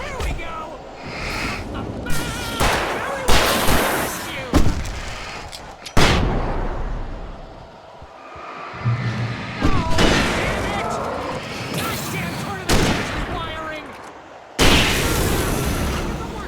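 Pump-action shotgun blasts in Alan Wake Remastered, a series of loud, sharp booms spaced a second or two apart, each with a brief decaying tail, mixed with game noise between shots.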